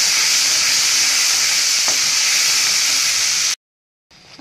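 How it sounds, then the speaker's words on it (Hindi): Spice paste for paneer korma fries in a pan over a low flame, giving a steady, loud, bright sizzle for several seconds before cutting out abruptly, with a brief return of sizzling at the end. "अभी ये थोड़ा भून लिया है मैंने इसको"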